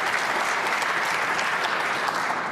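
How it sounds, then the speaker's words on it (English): Snooker audience applauding a frame ball at the Northern Ireland Open, a dense, even burst of clapping from the crowd that holds steady for the whole stretch. "Applause for frame ball."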